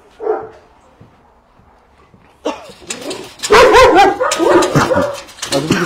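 Dogs at a dog and cat hotel in Kumköy, Manavgat, Turkey, with a brief yelp early on, then a loud burst of overlapping barking and whimpering from several dogs close by over the last few seconds.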